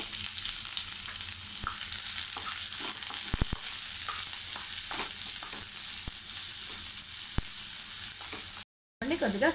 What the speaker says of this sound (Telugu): వీటిని ఇలా ఫ్రై చేసుకుంటూ ఇప్పుడు ఆనియన్ ముక్కలు వేసుకోవాలి